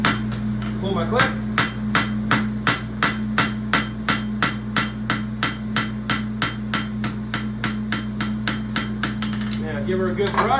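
A farrier hammers down a clip on a pony roadster horseshoe with a second hammer, striking in a fast, steady series of about two dozen ringing metal blows, close and loud over a low background hum.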